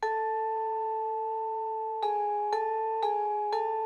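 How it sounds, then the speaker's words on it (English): A cassette vibraphone sample instrument by Phonoloop in Kontakt, used as a counter melody: a long ringing mallet tone, then four evenly spaced struck notes with shimmering sustain, alone and clear. "It's the cassette vibraphone by the Phonoloop, and it sounds like this."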